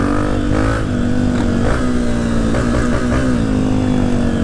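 A pack of more than a dozen Honda CRF dirt bikes rides a muddy trail, engines droning and revving together in a continuous, close, loud roar with rising and falling throttle.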